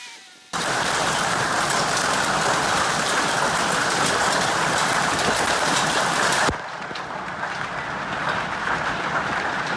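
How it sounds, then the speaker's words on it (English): Steady, loud rain pours down as a storm arrives over a 4WD being cleaned after a beach run, a dense hiss that drops a little in level partway through, with no talk. "Got a storm bearing down on us, so let's get this car in before the hail hits."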